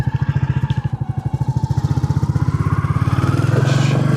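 Single-cylinder Classic 350 motorcycle thumping steadily as it pulls away for a short ride, a loud close rhythmic beat that rises slightly in pitch and strength toward the end.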